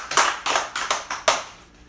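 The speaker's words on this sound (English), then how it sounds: "Claps" Six crisp hand claps ring out in a steady rhythm, fairly close, with no talking.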